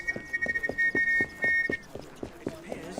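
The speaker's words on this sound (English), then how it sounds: "That whistle sounded horrible, sir." A sustained whistle in Assassin's Creed Syndicate holds a steady shrill tone for about two seconds and then cuts off, set against a run of rhythmic thumping footsteps or blows that continue throughout.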